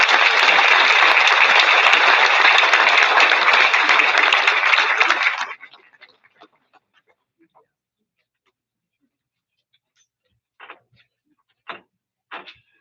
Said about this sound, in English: So let's just have a round of applause for Jeff Peterson.